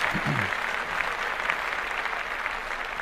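Clapping on a podcast set, a steady rattle of several people's hands lasting the full stretch, even in level, with a brief low voice near the start.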